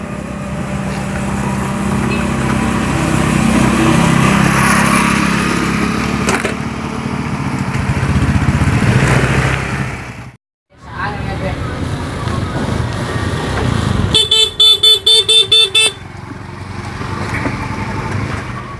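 A new motorcycle's engine idles and revs steadily up close, cutting out briefly and then restarting, with a rapid ticking pattern near the end.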